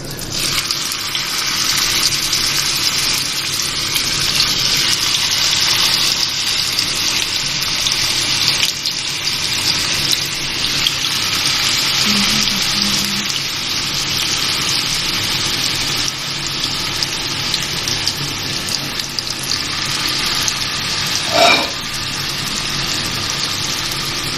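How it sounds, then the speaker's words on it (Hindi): Beef seekh kebabs fry in a pan with a loud, steady, even sizzle that continues unbroken, with only a brief faint clink near the end. "अब मैं इन्हें फ्राई करके दिखाऊंगी आपको"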